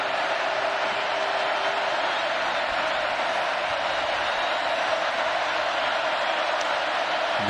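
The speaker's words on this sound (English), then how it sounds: "And the crowd roaring each time." A football stadium crowd at a Florida Gators at LSU game roars in a steady, dense wall of sound that holds loud and unbroken throughout, with no clear voices standing out.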